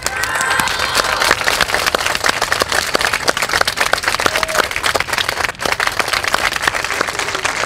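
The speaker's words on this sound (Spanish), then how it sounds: "Un aplauso, por favor." Applause greets Jorge Riquelme, introduced as a guest at a gathering of young people: dense, steady clapping from a crowd fills the whole stretch at close range, loud and continuous with no talk over it.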